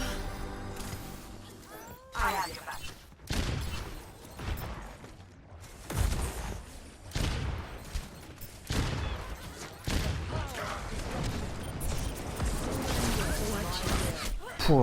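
Gunfire in the Overwatch video game, including a Widowmaker sniper shot, arrives as a string of sharp, loud cracks and impacts scattered through busy game noise, with a voice talking over much of it.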